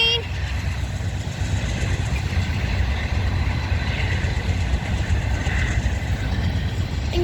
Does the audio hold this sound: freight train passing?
yes